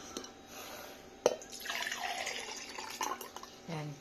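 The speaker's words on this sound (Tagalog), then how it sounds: "lalagyan natin siya ng tubig." Water pours into a measuring cup in a thin, trickling stream with small splashes and drips, a brief clatter near the start, and a faint voice in the background.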